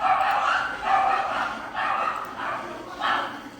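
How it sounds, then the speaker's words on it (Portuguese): Street dogs fighting, with repeated yelping barks in several short bursts roughly every second, loud and fairly close, agitated and overlapping, with no speech. "os cachorros da rua estão brigando aqui"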